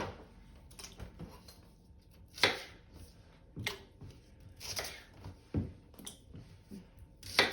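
A knife chops shallots on a board in a French countryside kitchen, a string of irregular sharp knocks, some louder than others, close and fairly quiet, with no talking.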